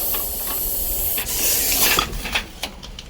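An angry venomous snake, held at bay by a cat, gives a loud close hiss that rises into a sharp, whistle-like burst before breaking into shorter puffs, with no talking.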